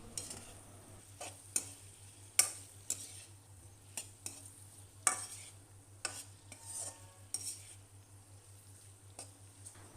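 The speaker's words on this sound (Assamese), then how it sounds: "এতিয়া বইল আলুখিনি লগতে দি পেলাই অলপ সময় ভাজি থাকিম।" Boiled potatoes frying in a pan with ground coriander and cumin: a soft, low sizzle under repeated light clicks and scrapes of stirring, quiet and close, with no talk.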